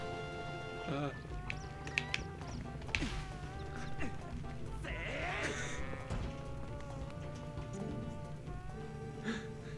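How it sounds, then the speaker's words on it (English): A goat in The Legend of Zelda: Twilight Princess bleats in wavering calls amid game music and scattered effects, with a voice speaking over part of it. "A goat got loose!"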